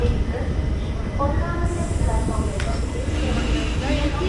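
Low, steady rumble of the Chennai–Palakkad Superfast train rolling into a station, with a continuous hiss and faint squeal, voices murmuring in the background throughout.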